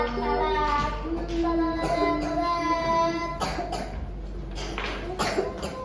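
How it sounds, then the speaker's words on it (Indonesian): Indoor coughing, several short harsh coughs near the middle and end, heard over a steady tone and children's chatter in a classroom. "Batuk ya?"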